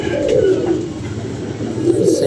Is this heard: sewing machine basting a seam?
no